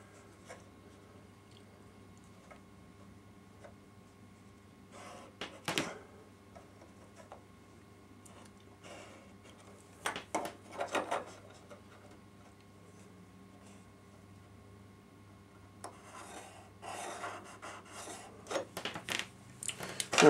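Pencil or marker strokes scratch across a wooden N gauge model railway baseboard, faint and intermittent, with short rubbing bursts separated by quiet pauses over a low steady hum.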